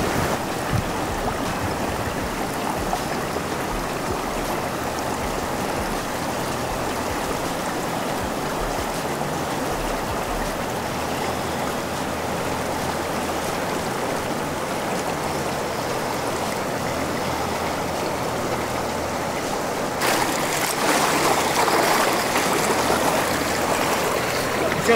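Steady rushing water at Tamolitch Falls blue pool on the McKenzie River in Oregon's Willamette National Forest, a constant broad wash that stays fairly loud throughout and grows slightly stronger near the end.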